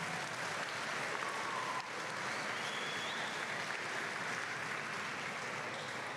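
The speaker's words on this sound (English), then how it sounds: "Let's give them a round of applause." A homecoming crowd at a volleyball match applauds in an unbroken, steady wash of clapping that sounds faint and distant, as if heard from across a large gym.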